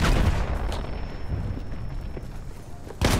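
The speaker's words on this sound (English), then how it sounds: "There's a machine gun." Machine gun fire in the video game Battlefield 1, a dense, noisy battlefield roar of rattling shots and booms that runs continuously, with a sharper burst near the end.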